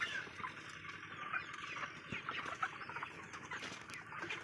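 Chickens cluck and murmur on a poultry farm, a faint, busy chorus of soft calls and scattered rustling spread over several seconds, with no speech.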